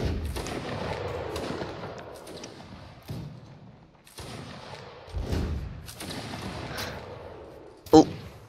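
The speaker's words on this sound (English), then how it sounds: "they're shooting at us" Musket gunfire in the video game Mount and Blade: Napoleonic Wars: muffled shots and thuds roll in repeated volleys, with one sharp, close crack near the end, while voices talk over the battle.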